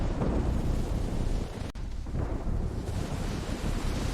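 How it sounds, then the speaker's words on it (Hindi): Floodwater rushes into a house during a storm in an animated cartoon: a loud, continuous roaring wash that dips briefly midway and then surges on, with no voices. "पानी अधिक था जो घर के अंदर तक आ रहा था"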